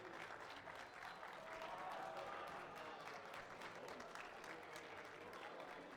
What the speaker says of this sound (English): can we please all give a massive round of applause for the organizers of AUTplayed